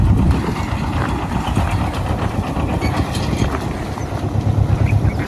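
A petrol-engine crop spray pump on a farm near an onion plot runs continuously, a loud, close, steady mechanical drone with rapid chugging texture and no talk.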